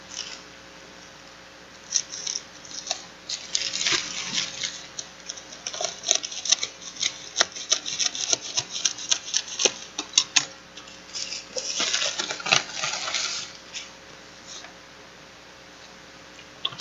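Book parcel from Kyobo bookstore being opened on a desk, with a steady run of close crinkling, tapping and rustling of packaging that thickens in bursts and then eases off, with no talking.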